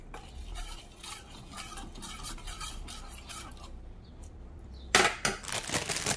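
A milk mixture for ice cream and kulfi pudding is stirred in a pot, giving close, repeated scraping and swishing strokes with a short pause and then a louder burst of stirring near the end, with no talking.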